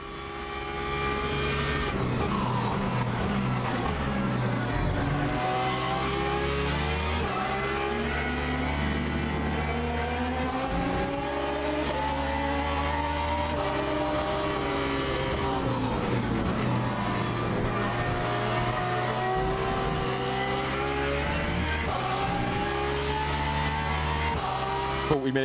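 Race car engines roar continuously in Le Mans Ultimate, a Porsche near and loud with an LMP2 prototype close behind, pitch rising and falling through gear changes and corners, steady and dense without talk.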